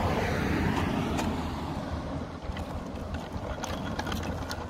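A car passes along a road, a steady broad rumble of engine and tyre noise that stays close and fairly loud throughout, with no talking.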